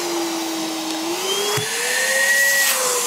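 A cordless HEPA wet/dry shop vacuum runs continuously with a steady high whine and airy rush, pitch shifting slightly as it changes speed, close and loud with no talking.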